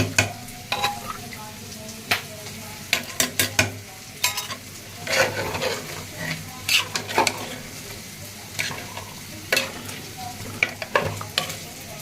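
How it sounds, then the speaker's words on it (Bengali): Eggplant slices frying in a pan during a home lunch cook, with a continuous low sizzle punctuated by frequent sharp spatters and pops, close by, with no talking. "এখন বেগুন ভাজতেছি"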